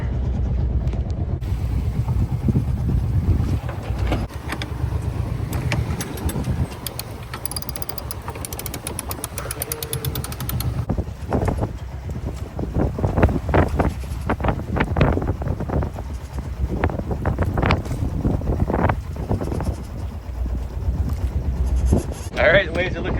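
A sailboat under way on a solo passage across the Bahamas and Gulf Stream, with strong wind buffeting the microphone and rushing noise over the hull, continuing steadily while a person talks at intervals.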